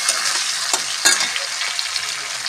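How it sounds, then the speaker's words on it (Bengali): Tomatoes with salt fry in a pan, a loud, close sizzle broken by a few sharp spatula stirs over a short stretch, with no talking. "এবার নেড়ে দিই"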